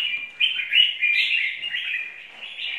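A caged songbird sings alone and close, a bright continuous warbling phrase that runs unbroken with slight pitch shifts and brief dips in loudness.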